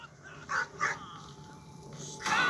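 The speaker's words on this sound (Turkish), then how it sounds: "Ama köpek havlıyor tabii ki çıkarken." A dog in the Schoolboy Runaway video game barks and yips in a few short, close bursts over a quiet background.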